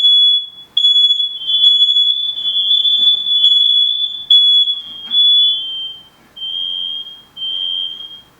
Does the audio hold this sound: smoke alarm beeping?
yes